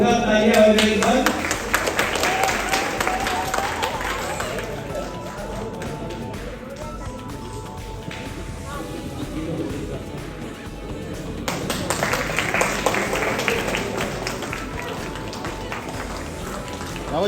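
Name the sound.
audience applause at an anniversary function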